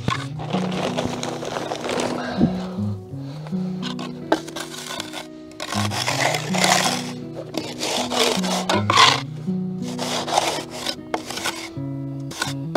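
Screed floor surface being rubbed up by hand, repeated rough scraping and grinding strokes in an uneven rhythm, close and fairly loud with short pauses between passes.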